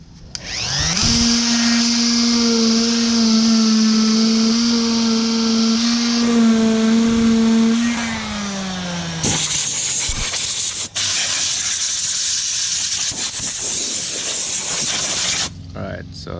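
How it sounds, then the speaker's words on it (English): Palm sander on a Rocket Bunny body kit part for a Mazda Miata, a loud whirring motor hum that changes pitch and cuts to a harsher sanding hiss partway through, with talk over it. "we're gonna sand this down with a palm sander just to make sure it's perfectly straight"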